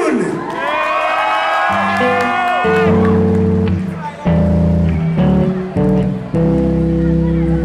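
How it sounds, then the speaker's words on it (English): A crowd at a band competition's preliminary round cheers and whoops loudly for the band, with rising shouts over a steady wash of crowd noise; after about two seconds, sustained low musical chords begin and continue under the cheering. "give a big, big round of applause for the band"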